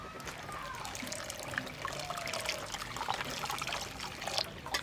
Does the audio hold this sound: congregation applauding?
no